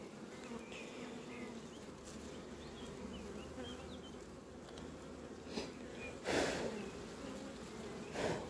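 Honeybees buzz steadily and densely at a beehive super, a continuous close swarm hum with a few louder passes near the end.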